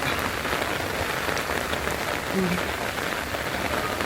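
Steady rain patters on a surface, a dense even hiss of drops throughout, with a faint voice briefly in the background.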